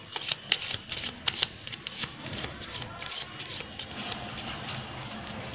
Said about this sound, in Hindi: और एक नॉर्मल शफल भी